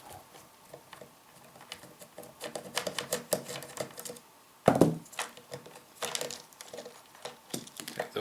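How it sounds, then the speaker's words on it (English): Screws are worked out of a 3DR Solo drone leg, heard as faint, close, irregular plastic clicks, taps and small metallic ticks with a sharper clatter midway. "so let's get the screws out"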